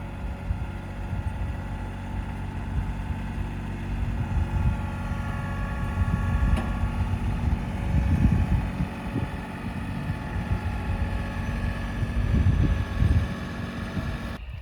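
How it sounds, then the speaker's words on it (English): A tractor with a box blade smooths out garden ground, its steady low engine rumble continuous throughout, swelling louder twice, with wind buffeting the microphone. "Mike came in with his tractor and his box blade"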